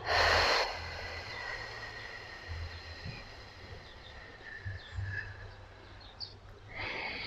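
A steady exhalation during a pregnancy breathing exercise, a soft, breathy release of air that follows a short, sharp breath at the start and is heard alone, with another brief breath at the end.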